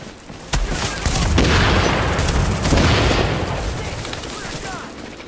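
Gunfire from the video game The Division: a dense, loud fusillade of rapid shots and booms rolls on continuously for several seconds, with players talking faintly underneath.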